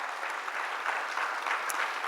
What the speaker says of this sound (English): If everyone could give another round of applause,